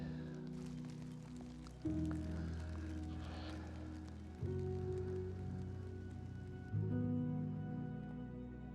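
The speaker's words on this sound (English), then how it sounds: "it's actually drizzling in here" Light drizzle steadily patters outdoors during a landscape photography outing, a soft continuous hiss of fine rain with faint droplet ticks throughout.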